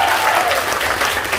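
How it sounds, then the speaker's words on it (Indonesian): A short burst of lively clapping from a small group acknowledging a woman, filling the whole moment at a fairly close, even level. "Wih, tepuk tangan buat Bu Mita ya."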